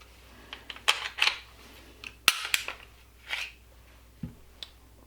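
Sharp metallic clicks and snaps from field stripping an unloaded Glock pistol, slide and parts handled at close range in a quiet room, with scattered isolated clicks and one louder snap.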